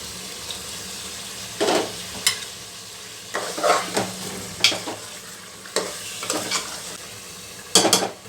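Onion paste frying in hot oil with masala for dahi chicken, heard as intermittent bursts of sizzling and spoon-stirring scrapes over a quiet hiss, with no talking.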